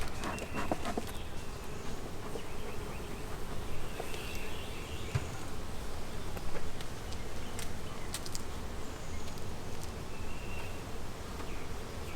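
Carniolan honey bees humming steadily at an open hive during an inspection, a continuous close buzz with occasional louder passes of individual bees and faint handling clicks.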